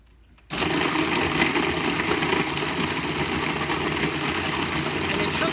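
A blender pulses frozen bananas with vanilla milk and coffee into mocha nicecream, a loud steady motor whir that starts abruptly after a brief quiet moment and runs continuously.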